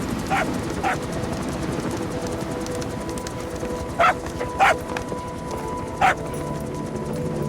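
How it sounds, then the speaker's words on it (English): A dog from the video game Metal Gear Solid V gives a few short, sharp barks spaced irregularly over a steady background hum, with no talk. "Here's the dog you brought back."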